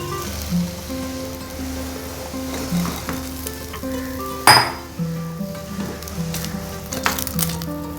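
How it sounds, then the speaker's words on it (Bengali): Jalebi batter sizzles steadily in hot oil as pieces are dropped in one by one, with occasional pan and utensil clinks and a brief louder splash midway, close and moderately loud. "এবার আমি এই জিলাপিগুলো এক এক করে ছেড়ে দিচ্ছি।"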